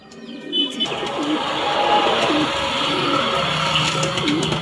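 A racer pigeon coos in repeated low, throaty calls close by, with steady background noise around it and no clear talk.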